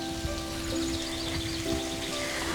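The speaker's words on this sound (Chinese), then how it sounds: "在这个崖壁上还有一条瀑布，" A waterfall pours down a cliff face beside a secluded home under a cliff in Yunnan, giving a steady, even rush of falling water that fills the scene with no talking.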